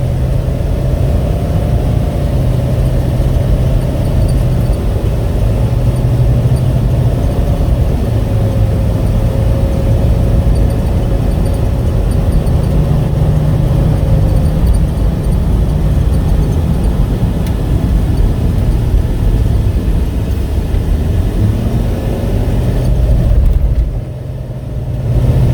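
A 2017 Ford F450 XLT Jerr-Dan self-loader wheel-lift tow truck drives along, its heavy engine droning loud and steady from the cab with gentle rises in pitch, dropping away briefly near the end.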